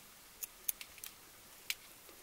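Scissors snipping loose threads on a handmade Easter egg craft, a handful of faint, crisp snips and small clicks spaced irregularly in a quiet room.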